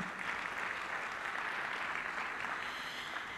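Audience applause at the TECNO flagship product launch 2022, a steady wash of many hands clapping at a distance, continuous and even with no talk over it.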